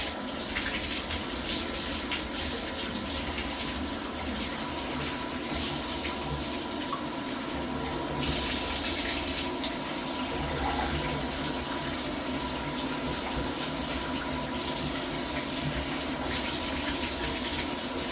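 Hot water pours steadily into a clogged main drain to melt wax, a broad, continuous hissing gush like a tap draining into a sink, with no voices over it.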